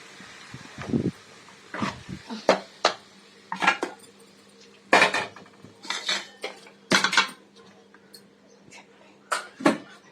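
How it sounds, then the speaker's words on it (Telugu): Metal cookware clanks and rattles in a series of close, irregular knocks, like a small pan being set down and shifted on a stove. "తాలింపుకి చిన్న కళాయి పెట్టుకున్నానండి."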